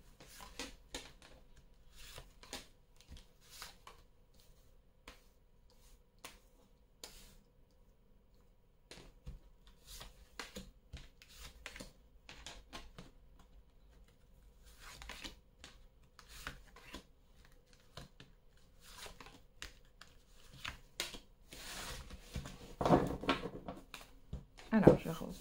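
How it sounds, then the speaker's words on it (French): Tarot cards handled and shuffled close up in quiet surroundings, soft rubbing and flicking bursts scattered throughout and thickening near the end, with a person speaking at times. "je vais replacer les cartes encore une fois"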